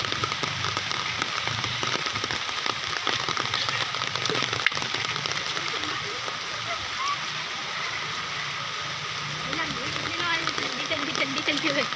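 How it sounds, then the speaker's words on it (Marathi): Steady rain hisses and patters evenly on an outdoor street in Dombivli, a continuous wash of sound as people talk nearby. "पाऊस चालू झाला तिथे"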